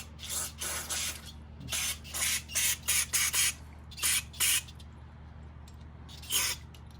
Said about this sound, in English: I'm going to take and spray just a little bit of carb cleaner